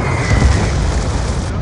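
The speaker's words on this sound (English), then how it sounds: "Hellstorm missile inbound" A Hellstorm missile detonates in the Black Ops 2 multiplayer match on the Slums map, a loud, deep boom with a low rumble that swells quickly and then trails off over a second or so.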